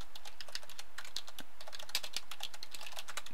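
Computer keyboard typing, a steady rapid run of close, crisp key clicks with no pauses, fairly loud and heard alone.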